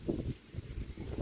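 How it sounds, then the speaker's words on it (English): Strong wind gusts buffeting a hillside wild camp, rumbling and roaring in uneven surges with no voices. "It's just, it is really windy."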